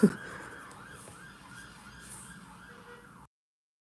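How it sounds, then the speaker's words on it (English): A police car siren passes at a distance, its wailing tone rising and falling steadily over several cycles, fairly faint against quiet room ambience before cutting off abruptly. "Oh, there goes a police car."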